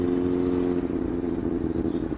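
A Benelli 600i four-cylinder superbike engine drones with a steady, throaty hum and slight rises in pitch, heard from close on a road ride with faint rattling under it.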